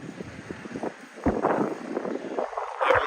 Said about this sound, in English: it's very, very windy right now